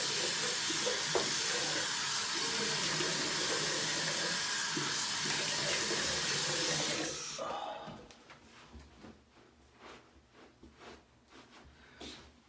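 Running water rinses a face after shaving, a loud steady rushing splash that cuts off abruptly, leaving quieter drips and handling sounds.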